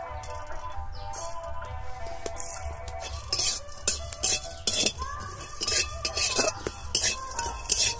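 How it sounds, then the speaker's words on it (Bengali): Dry spices, coriander and cumin among them, are stirred and roasted in a dry wok over low heat, with a metal spoon scraping and clinking against the pan in quick, irregular strokes. "সবগুলোকে আমি একসঙ্গে শুকনো কড়াই একটু নেড়ে ভেজে নেব।"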